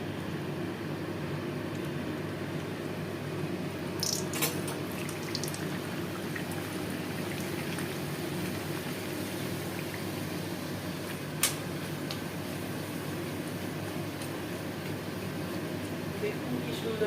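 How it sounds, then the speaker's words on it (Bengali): Luchi, Bengali puffed flatbread, frying in hot oil with a pinch of asafoetida, a steady close sizzle and bubbling hiss with a few faint clinks, continuous and even. "এবার আমি বেলে রাখা লুচিগুলো আমি আপনাদের তেলে দিয়ে দিচ্ছি।"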